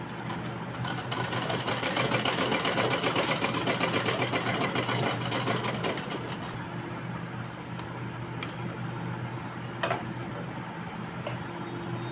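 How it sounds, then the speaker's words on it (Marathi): A sewing machine runs steadily, stitching two fabric strips along their reverse side for a Krishna costume, a dense continuous whir for about six seconds before stopping, followed by quiet handling clicks. "उलट्या बाजूनी शिलाई मारून घ्यायची"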